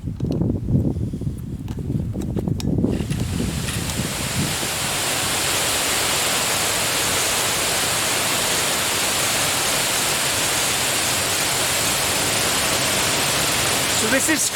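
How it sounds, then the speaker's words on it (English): Gyhirych waterfall in the Brecon Beacons, Wales, on a misty, drizzly day: after a few seconds of close handling noise and a brief voice, a loud, constant broadband rushing roar of falling water fills the rest. "which in my opinion is the best waterfall in Wales"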